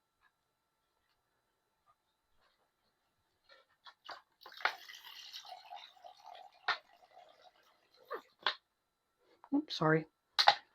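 A handheld spray bottle of water is used in a desert setting around roaches. It gives a hissing burst of spray, then short sputtering puffs as it runs dry, with a few quiet spoken words.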